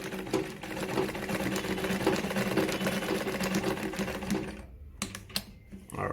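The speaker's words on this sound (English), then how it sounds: "I'm sewing the regular straight stitch, so it goes." A Victoria Deltmod model 235 sewing machine runs a regular straight stitch, a fast rhythmic mechanical chatter that goes for several seconds, then stops and leaves a few scattered clicks and handling knocks.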